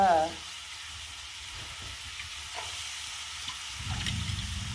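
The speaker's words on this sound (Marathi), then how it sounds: "डाळीला बी परतून घेते" Lentils (dal) being sautéed in a pan in a village kitchen: a low, steady sizzle and light scraping that rises slightly toward the end, after a brief louder sound at the very start.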